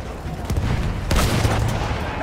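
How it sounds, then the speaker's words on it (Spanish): Gunfire from the World War I shooter Battlefield 1: dense, continuous machine gun bursts with heavy booms, loud and rolling over a battlefield din with no clear gaps, swelling noticeably midway. "¡Esas ametralladoras están conteniendo a nuestros chicos!"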